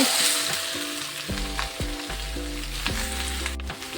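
Cut ridge gourd sizzles steadily in hot oil with popped mustard seeds, dals and curry leaves, a constant close crackling fry with low humming tones running underneath.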